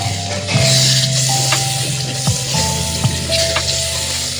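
Spiced masala sizzling in oil in a pan for Bengali-style handi chicken, a steady loud fry with stirring scrapes and clinks at intervals, no voices.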